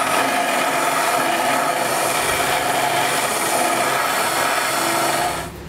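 A power tool grinds and rasps steadily, enlarging a hole in the steel frame of a 2022 Nissan Rogue Sport during a trailer hitch install; the harsh, continuous, close-up scraping runs unbroken for several seconds before cutting off at the end.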